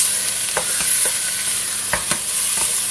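Food browns in a pan over high heat, a steady bright sizzle broken by several short scraping stirs of a utensil, close and loud with no talking.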